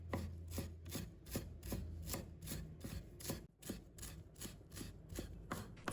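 A knife chops a bunch of coriander into short pieces on a board, with steady, evenly spaced close taps repeating through the clip and no voices.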